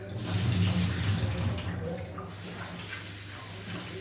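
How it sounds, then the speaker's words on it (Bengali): Tap water running steadily as rice is rinsed in a kitchen, a continuous close splashing flow with a low rumble and faint background voices. "এবার ভাত বসাবো ওই জন্য চাল নিয়ে নিলাম চালটা ভালো করে একটু ধুয়ে নিয়েছি"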